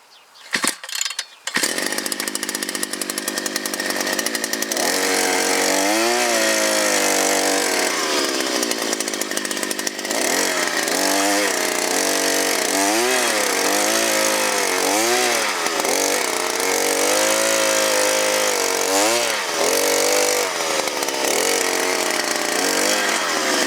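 A loud small petrol engine on a soil auger starts after a pull and runs steadily, its pitch rising and falling repeatedly as it revs under load while drilling into sandy ground.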